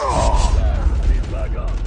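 A shotgun is reloaded in a shooter video game, with mechanical clacks and ratcheting over dense game noise and a shouted voice, loud and busy for a short moment.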